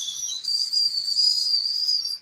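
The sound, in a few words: whistling s sound imitation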